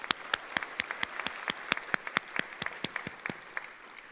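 Graduation audience applauding a health professions class, sparse, distinct individual claps at a steady rhythm, fairly faint and heard alone without talk.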